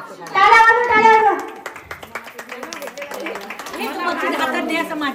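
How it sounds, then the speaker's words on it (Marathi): Audience hand clapping at a village International Women's Day celebration during a prize-giving, a short burst of applause after an announcer's call, with voices and chatter over it. "टाळ्या वाजवा, टाळ्या वाजवा."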